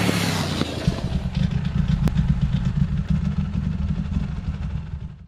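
A Moto Morini Milano 1200 motorcycle engine idling and revving nearby, a low throbbing rumble with a brief rising rev before settling and fading out.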